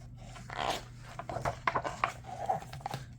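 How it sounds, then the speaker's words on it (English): A jacket zipper pulled up in a short series of scratchy, rasping strokes, close and fairly quiet, with no voices. "Don't forget to zip up your jacket, Huckle."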